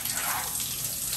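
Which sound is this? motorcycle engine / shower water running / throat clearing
shower water running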